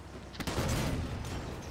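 Weapon fire in the Halo 5 Warzone Firefight game mode, a dense, loud volley of shots and booms starting abruptly and continuing as a sustained barrage.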